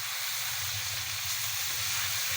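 Tomatoes frying in a pan for chicken achari, giving a constant bright sizzle with a low rumbling undertone and no talking.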